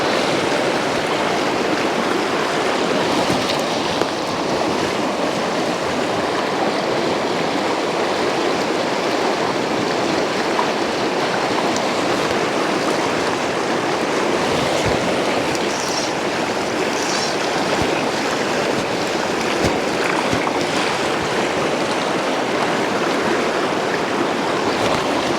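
Fast-flowing water of the Cowlitz River rushes in a steady, dense broadband roar, close and continuous throughout with no voices over it.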